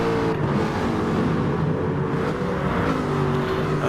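Aston Martin Vantage GT4 race cars roar steadily in a racing video game on the Sardegna circuit, a constant loud engine drone with no breaks.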